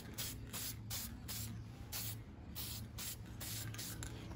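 Spray paint is applied in short bursts to Honda Z50R engine parts, about eight quick hissing sprays in an uneven rhythm, close and fairly quiet, with no talking.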